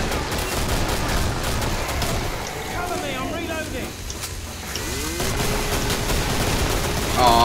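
Rapid AA-12 automatic shotgun blasts in the video game Killing Floor, mixed into a dense, loud din of other gunfire and explosions that runs steadily throughout.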